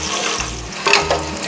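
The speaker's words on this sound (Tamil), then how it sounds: "இஞ்சி பூண்டு பச்சை வாசனை கொஞ்சம் போன பிறகு பச்சை மிளகாய் சேர்த்துக்கோங்க" Ginger, garlic and green chillies frying in hot oil for Malabar prawn biryani, a close, steady crackling sizzle with a short stirring burst partway through.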